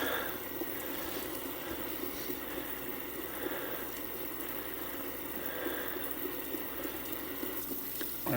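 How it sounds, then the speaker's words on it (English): Tap water runs steadily into a kitchen sink as food is rinsed, a close and constant splashing hiss lasting the whole stretch with no break. "So rinse that off."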